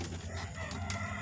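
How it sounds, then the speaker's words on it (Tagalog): Chickens clucking and murmuring close by, a short burst of fowl sounds with a brief higher call near the end. "yung manok ko, aking pakakainin na"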